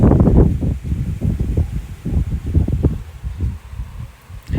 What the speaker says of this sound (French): Regardez, mais ça ne s'arrête pas, regardez les rafales.